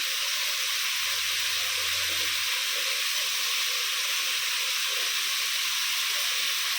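Asafoetida dropped into hot oil while cooking sambar, giving a steady, loud, close sizzle and hiss that holds the whole time, with a brief low hum near the start.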